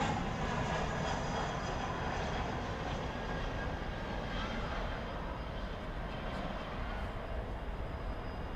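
At night, an airplane takes off from runway 18 left at DFW airport, a continuous distant engine roar that holds steady throughout.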